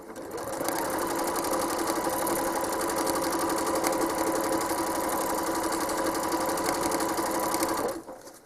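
A home sewing machine runs steadily while machine quilting a small quilt top, giving a fast, even, close mechanical hum and needle chatter for about seven seconds before stopping, with no talk.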